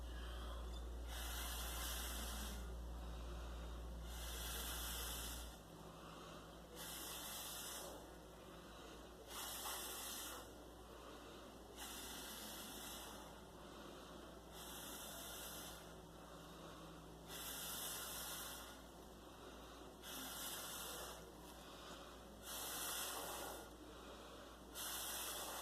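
Breath is blown onto a wet acrylic pour painting in repeated bursts of breathy hiss, about a dozen puffs at a fairly even rhythm, close to the microphone, with no talking.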